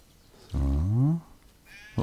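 A sheep in the video game Craft the World lets out one clear, wavering bleat of about a second, loud and close, followed by quiet.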